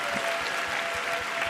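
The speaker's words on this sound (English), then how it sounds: "Round of applause." Audience applause at an advance screening of RuPaul's Drag Race All Stars: a short, steady wash of clapping from a crowd, evenly loud throughout with no break.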